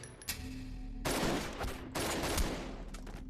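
Rapid bursts of gunfire crackle in two long volleys, loud and dense, with scattered shots trailing off.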